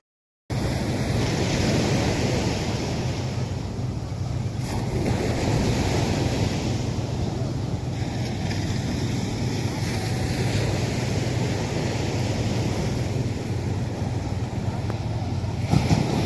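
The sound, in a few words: rough sea waves on a beach in Zambales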